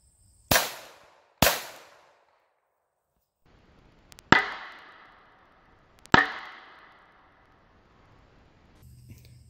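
Four sharp, loud impulsive cracks, two from a 1911 pistol and two more later, fired into a spall liner with a cardboard box placed over it to catch fragments; each bang decays quickly into near silence between.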